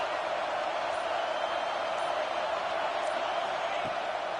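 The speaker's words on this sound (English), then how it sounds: "Decibels rising as the crowd gets behind this defense on 3rd down." A football stadium crowd roars on third down in a Week 1 game, a dense, steady wall of noise that holds loud and unbroken throughout.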